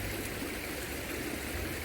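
A stream flows nearby in the countryside, a close, steady rushing and gurgling of water that fills the whole moment without pause or voices.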